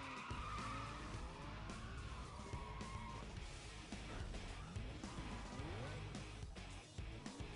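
A car drifting in Need for Speed Most Wanted, with long tire squeals and a revving engine that rise and fall, loud and continuous, with faint game voices underneath.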